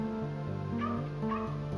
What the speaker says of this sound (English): He heard their dog